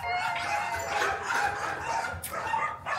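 Several dogs bark and yip at a distance, overlapping in a busy chorus with no one talking.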